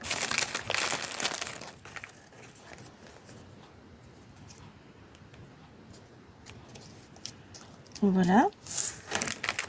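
Paper and card crinkle and rustle while an Easter-themed spring door decoration with flowers and lace is assembled, a burst of crumpling at the start, quieter handling in between and more crinkling near the end, with a brief spoken word.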